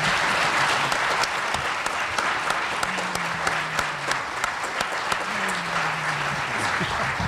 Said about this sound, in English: Let's give them a big round of applause for coming out this evening.